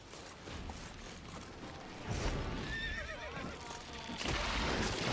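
A horse in The Witcher 3 neighs and whinnies amid hoof clip-clop, the whinny rising midway through a continuous bed of game ambience, close and fairly loud.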